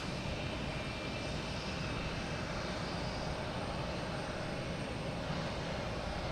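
Jet airliners such as a Southwest 737 and an Embraer 175 at Boston Logan Airport produce a steady, distant engine roar, a continuous broad rumble with no speech.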